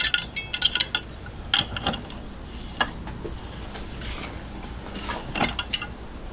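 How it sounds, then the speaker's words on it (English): Metal tools clink and ratchet against brass fittings being worked loose from a steel pipe, in sparse, irregular clanks and scrapes close up, no talking. "let's see if we can get these brass ends off this steel pipe here"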